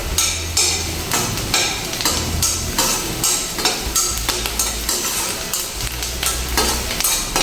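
Crushed garlic and onion frying in a pan for a hotel-style Shimla mirch (capsicum) masala bhaji, a steady close sizzle broken by frequent stirring and scraping knocks of a spoon against the pan.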